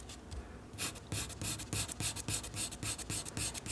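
A drawing tool scratches repeated spaced hatching strokes across paper, a steady rhythm of about two short rasping lines per second, close and clear with no talk.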